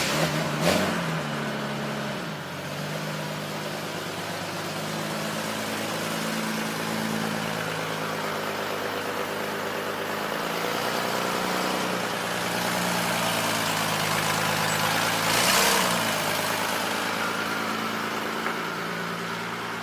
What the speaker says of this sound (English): So let me go ahead and pull the Cressida out.